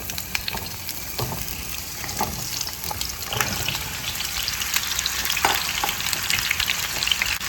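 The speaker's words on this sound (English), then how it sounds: "So now my oil here is nice and hot. I'm going to add the zucchini." Sliced zucchini hitting hot oil in a pan sends up a loud, steady sizzle with crackles, while a utensil stirs and scrapes at intervals. No one speaks.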